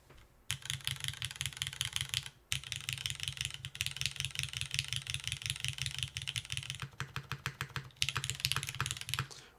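Fast typing on a Neo80 Cu mechanical keyboard with a deep, thuddy sound, dense close-up keystrokes running almost continuously with two brief pauses.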